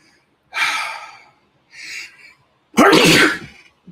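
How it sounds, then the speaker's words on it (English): One person gives a close, loud sneeze, preceded by two sharp inhaled gasps, then a strong forceful burst at the end. "I have a sneeze that really wants to come out."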